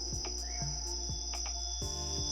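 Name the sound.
insects and tree frogs in the Amazon rainforest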